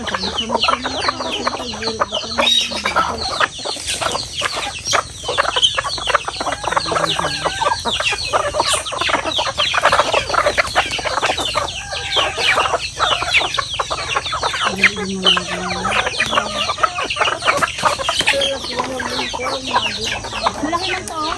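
A flock of farmyard chickens clucks continuously and loudly in rural Mindoro, with overlapping calls and occasional rooster-like notes.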